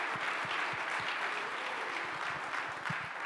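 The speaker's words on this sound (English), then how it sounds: "Why don't we all give them a big round of applause as well?" An audience at a DevOps conference claps for event staff, sustained dense applause from many hands at steady loudness throughout.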